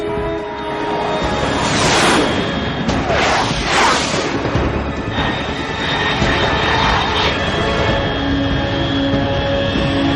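A fast unidentified aircraft in the video game Metal Gear Solid 3, cruising at high altitude. Its loud, continuous engine roar fills the whole stretch, swelling and sweeping as it passes overhead, with no voices.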